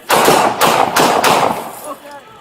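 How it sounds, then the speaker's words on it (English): Several loud gunshots fired by police at a man charging with a knife ring out in quick succession, sharp close blasts echoing outdoors, with shouting voices around them. "We've got multiple shots away."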